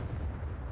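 A grenade launcher round detonates at a distance in the video game SCUM, a deep booming blast with a rolling low rumble that sustains briefly, heard alone.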